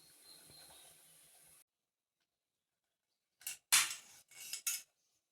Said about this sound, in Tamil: இப்போ நம்ம புட்டு குத்தி எடுத்துருவோமா வாங்க